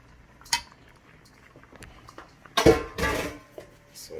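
A spoon scrapes and clinks against a pot while curry chicken is stirred. A few sharp knocks stand apart from quieter clatter, and there is soft background noise between them.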